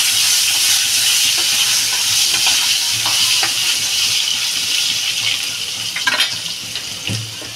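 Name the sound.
potatoes frying in a pan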